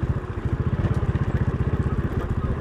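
A motorcycle rolls down a trail near Bojongkoneng toward the Leuwi Areuy site, its engine putting out a steady low, rapid thumping pulse close by, with no talking.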